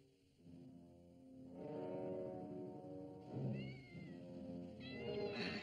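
A cat meows several times, its long, tonal, wavering cries rising and falling over a few seconds with short pauses between calls, fairly close and clear, with no talk.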